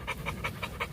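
An American Bully XXL dog pants in a quick, even rhythm of about five breaths in a second, close and moderately loud, with no other sound.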